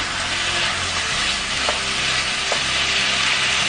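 Chicken being stirred and fried in a pan on a stovetop element at maximum heat, a loud, constant hiss of sizzling with a couple of faint scrapes, heard alone without talk.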